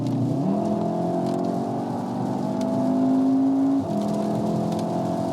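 A VW Golf R's four-cylinder engine pulls hard through the gears, a steady rising drone heard from inside the cabin, dropping in pitch at each upshift before climbing again.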